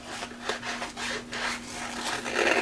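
Blade or scissors rasp and rub steadily while trimming underneath a paper layout for a Christmas scrapbook page, a close, continuous scraping with repeated strokes and no talk.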